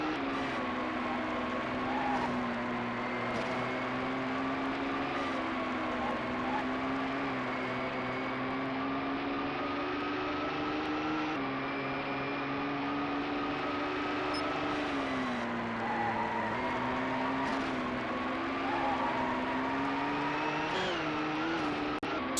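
Race car engines from the game GT 64 drone continuously with a synthetic, buzzy tone, pitch rising and dipping slightly through gear changes and corners, loud and steady throughout with no talking.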